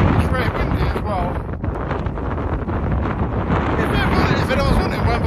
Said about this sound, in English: It's very windy as well.